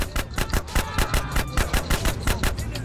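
Rapid automatic gunfire in GTA: San Andreas, a loud, evenly spaced burst of about sixteen shots rattling continuously for nearly three seconds.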